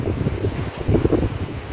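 Wind buffeting a microphone outdoors on a hot day, a steady low rumble with gusty swells that rise and fall throughout, fairly loud and alone with no talk.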